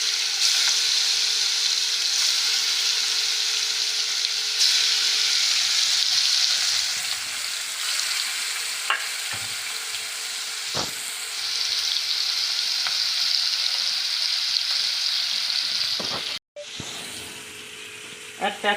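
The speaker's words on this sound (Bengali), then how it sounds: "একটা একটা করে ভেজে নিই," Chicken pieces fry in a pan with a loud, continuous sizzle, broken now and then by utensil scrapes and knocks, and the sound cuts out sharply near the end.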